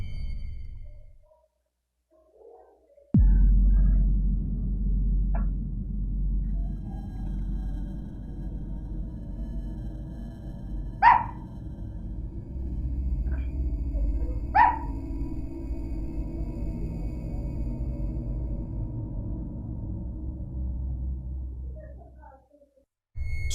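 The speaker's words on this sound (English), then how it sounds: "the father and mother of the house were woken up by their dog barking" A dog barks at night outside a house, two sharp distant barks standing out over a steady low hum and rumble, with brief silence at the start and end.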